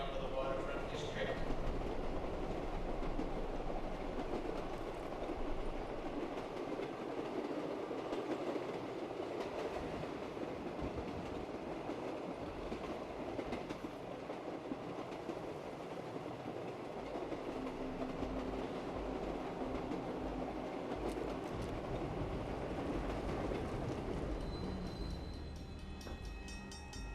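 A train from Call of Duty: Black Ops III departs, a steady rumble with rhythmic clickety-clack of wheels on rails continuing throughout at loud, even level and fading slightly at the end.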